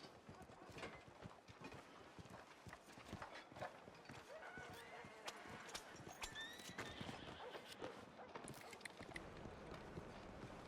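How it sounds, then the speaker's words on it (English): Horse hooves clip-clop in a Western role-play video game, a rapid, steady run of hoofbeats with a whinny mixed in, while people talk over the sound throughout. "My horse."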